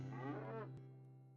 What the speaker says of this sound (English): Go to the market today and sell our cow, Bess.